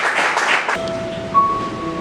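A church congregation applauding during a sermon: a loud patter of clapping fills the opening moment and then stops abruptly, leaving a quiet room with faint tones.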